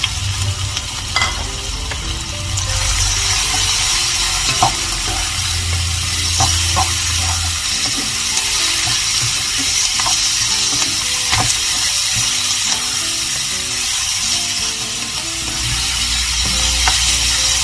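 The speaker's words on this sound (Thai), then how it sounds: "เราก็จะใส่หมูลงผัดค่ะ" Pork stir-fried with softened onion in a pan, a loud, continuous close sizzle with scattered clinks and scrapes of a utensil stirring against the metal.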